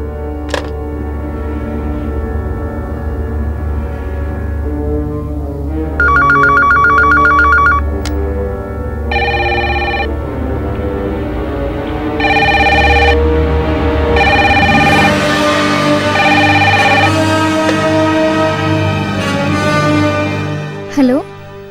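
A telephone rings in repeated electronic bursts amid background music and a continuous low drone, the ringing loud and close, in a dramatic television scene.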